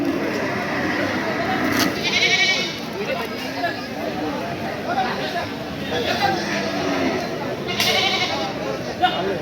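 Goats bleat at a busy village livestock market in Bangladesh, several wavering cries rising over a steady crowd murmur of talking people, with one sharp bleat near the end.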